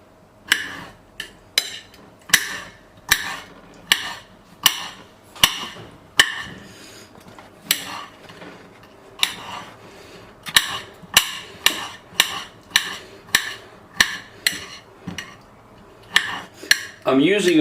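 A knife chops gherkins into small pieces on a plate. Sharp, evenly spaced clicks of the blade striking the plate come in quick runs with short pauses, close and clear.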